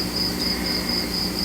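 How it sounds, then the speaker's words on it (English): Crickets chirp outdoors at night in a steady, rapid, high-pitched pulsing trill that carries on unbroken, close and clear over a quiet background. "I love the crickets too. The crickets are cool."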